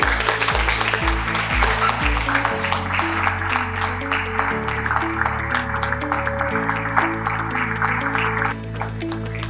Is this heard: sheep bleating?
no